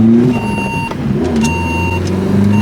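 Tuned 400 BHP Vauxhall Corsa engine revs up and down close by, loud and throaty, with the pitch climbing and falling across a few short blips under a steady droning idle.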